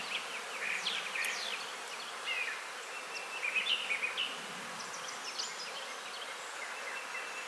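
Honeybees stirred up after a hive frame is dropped during a small split, a steady agitated hum with higher buzzing swells as individual bees fly past close by, no voices.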